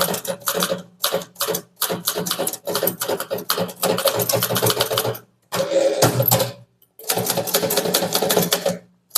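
Rapid mechanical keystrokes of English typing in a steady run, the bursts broken by short pauses and a few longer gaps, close and clear with no voices.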